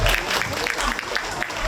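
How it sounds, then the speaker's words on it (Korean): A short stretch of clapping from a small group at a public forum, scattered and fairly close, with a few overlapping voices mixed in. "같이 한번 박수 칩시다"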